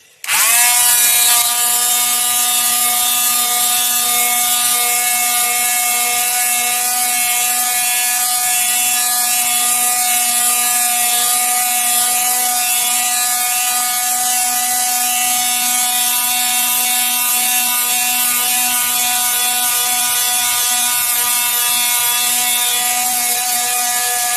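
Ferm multifunction oscillating tool sanding wood with 80 grit paper, a loud, steady buzzing drone with a strong tonal hum that runs unbroken for over twenty seconds, very close, no talking.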